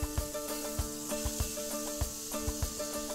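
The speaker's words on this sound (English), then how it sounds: "Nice little sizzling there." Vegetables, including green bell pepper, sizzle in a hot frying pan for Spanish rice, a steady bright hiss with light regular ticks and pops running through it.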